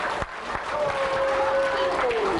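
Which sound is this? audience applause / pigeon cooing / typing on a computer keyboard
audience applause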